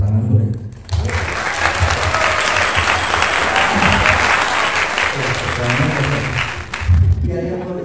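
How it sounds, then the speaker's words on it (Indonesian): Loud, steady applause from an audience at a youth film screening, sustained for about six seconds with brief talk at the start and end. "Tepuk tangan boleh?"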